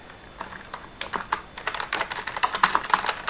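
Assembly code is typed on a computer keyboard, close and crisp, with sparse keystrokes that quicken into a fast, steady run of clicks.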